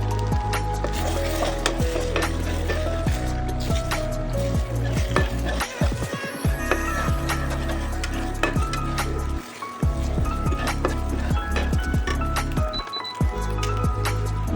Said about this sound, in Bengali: তিনটে ডিম আমি ভুজিয়ার আকারে ভেজে নেব